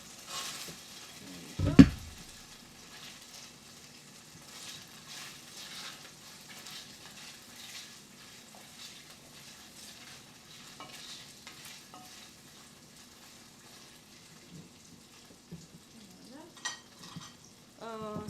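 Carrots fry in a pan for boeuf bourguignon with a soft, steady sizzle and occasional stirring scrapes. There is a sharp clatter early on, and a voice speaks briefly.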